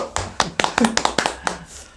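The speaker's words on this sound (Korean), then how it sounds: "박수!" A small studio group on a real estate show claps in about a dozen sharp, separate claps, close and moderately loud, thinning out and fading toward the end.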